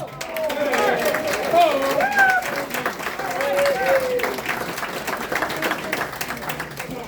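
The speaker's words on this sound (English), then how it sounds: "I think he needs a round of applause" A crowd at a Saint Patrick's Day singing-group gathering claps for a retiring member, lively applause mixed with cheering voices and chatter, loud at first and tapering somewhat toward the end.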